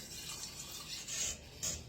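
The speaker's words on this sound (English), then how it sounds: "Put some water" Water running into a small cooking pot, a steady faint stream with brief louder splashing surges near the end.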